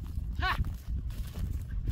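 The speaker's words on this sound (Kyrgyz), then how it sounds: "Жылоолорун да көрүңүздөр аттын." A horse ambling on a road at Kara-Suu, hooves clip-clopping softly and steadily at a distance, with one brief higher call rising over the quiet hoofbeats.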